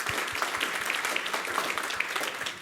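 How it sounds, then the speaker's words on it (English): An audience at a developer meetup claps for the organizers, a dense, even burst of applause that carries on steadily before tapering at the end. "Can we get a round of applause for putting all of this together?"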